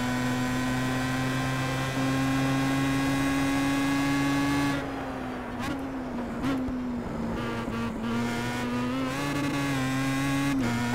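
A Star Mazda race car in the iRacing video game at Mount Panorama holds a steady, buzzing engine note, then its tone wavers and surges in short bursts as the wheels spin. No voices are heard.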